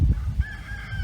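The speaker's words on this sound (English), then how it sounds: "that one is obviously a rooster." A rooster crows at an old outback pub near Winton where a diesel generator powers the place, a short faint call with a thin sustained tone over low rumbling background noise.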